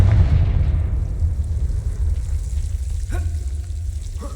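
Confringo spell going off in Hogwarts Legacy, a deep rumbling boom that rolls on for several seconds as a heavy low roar, with a couple of sharp crackling bursts near the end.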